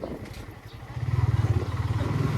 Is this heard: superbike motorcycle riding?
yes